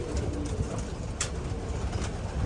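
Soft pigeon cooing repeats low and steady against a constant background hum, with no voices.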